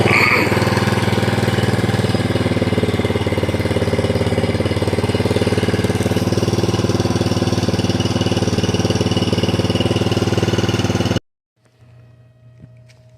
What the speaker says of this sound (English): Don't let it kind of run at idle.